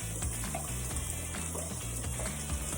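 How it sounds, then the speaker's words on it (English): Onions sizzle steadily in a heated pan with a teaspoon of olive oil, a continuous close frying hiss with faint scraping and no talk. "I have my teaspoon of olive oil in here. I'm gonna add my onions."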